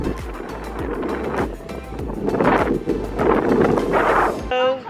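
Strong gusty wind buffets the microphone on the beach at Huntington Beach, a loud continuous roar swelling and easing in waves, with a brief tonal sound near the end.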